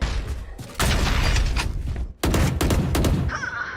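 Rapid bursts of Valorant gunfire crackle loudly in dense volleys, broken by a brief silent gap before another heavy burst and a trailing mechanical tail.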